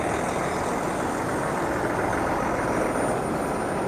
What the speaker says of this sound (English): There's a liquid gas tanker coming in as well right now.